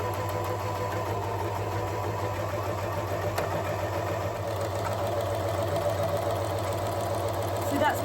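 A sewing machine runs continuously while stitching a double-layered fabric seam for a costume, a steady close mechanical hum and rapid chatter with occasional speech over it.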